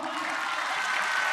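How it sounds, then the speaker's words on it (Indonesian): Junior high school students at SMPN 16 Bandung clapping together during a religious gathering, a brief dense burst of applause at moderate distance. "tepuk tangan dong."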